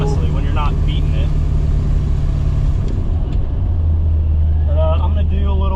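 A 1991 Ford Mustang Foxbody engine drones steadily and close while the car drives. Its low hum shifts partway through, and someone talks over it throughout.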